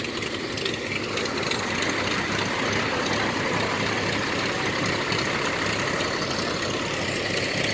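Antique REO Motor Car Company car passing in a small-town parade, a steady mechanical engine clatter with ratcheting, gear-like texture and a continuous broadband rumble throughout, no talk.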